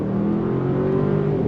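2023 Bentley Bentayga EWB luxury SUV accelerating on throttle with paddle-shifted gears: a steady, loud engine drone rising smoothly in pitch, heard close and without talk.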